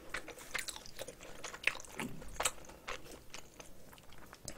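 Close chewing of spicy cockles and rice wrapped in seaweed gives soft, irregular crunches and wet mouth sounds, quiet and intimate, with no talking.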